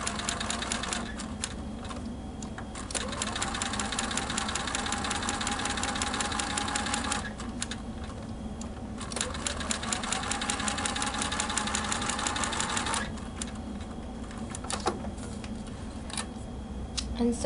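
Sewing machine stitching quilt fabric for curved flying-geese blocks, running in steady bursts of fast, even needle chatter separated by brief pauses as the fabric is repositioned.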